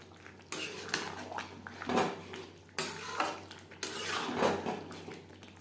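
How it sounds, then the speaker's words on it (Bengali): Metal spoon scraping and clattering against a pan while stirring jackfruit curry with garam masala, several distinct knocks and scrapes spaced irregularly, close and moderately loud. "এঁচোড়ের সাথে বেশ ভালো করে মিক্সড করে দেবো।"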